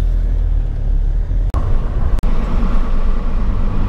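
Interior road noise from a 2006 Volvo S40 diesel accelerating onto a freeway. A loud, steady low rumble of engine and tyres fills the cabin, broken by two brief dropouts. No voices are heard.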